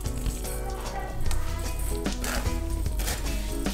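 Apple, poppy seed and raisin filling stirred together in a bowl for a poppy seed roll, giving a steady, close, wet rustling and scraping with no talk.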